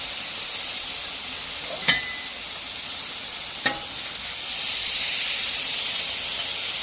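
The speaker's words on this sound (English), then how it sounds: "Listen to that sizzling." A steady hiss of steak sizzling on a grill, with two sharp clinks of a utensil, growing slightly louder toward the end.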